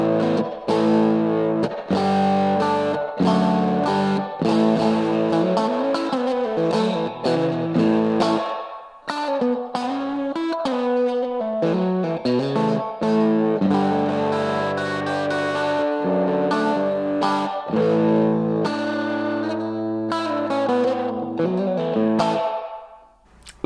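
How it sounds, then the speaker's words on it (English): Electric guitar played through a TC Electronic Hall of Fame 2 pedal set to spring reverb, sounding a loud, distorted run of chords and notes with reverb tails, continuous for about twenty seconds and stopping briefly near the middle. "This is just a little spring reverb."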